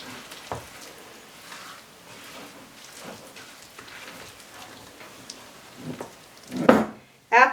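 Muffin batter with sweetened coconut and pecans is stirred in a bowl, giving soft, continuous scraping and squelching that stays faint, with a couple of sharper clinks near the end.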